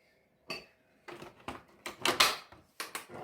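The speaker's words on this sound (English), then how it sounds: "And then I'm just gonna mix them again" Hot cross bun batter is mixed in a bowl with a series of separate knocking and scraping strokes, irregular in rhythm, close and fairly quiet between the hits.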